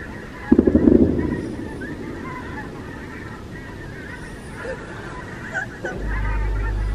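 Geese honking outdoors in Northumberland on a windy New Year's night, a short burst of loud, close honks early on, then fainter calls under gusty wind noise and a brief voice.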